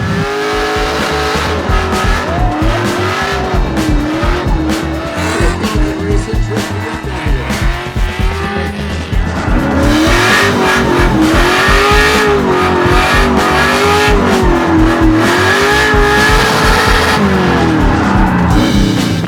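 A car drifts at the SEMA show with loud, sustained tire squeal and revving, screeching engine roar that rises and falls in waves close by throughout, with no talk over it.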